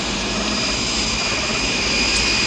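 An aircraft taking off roars with a steady, loud, broadband engine rush and faint high whine, unbroken across the whole moment with no voices.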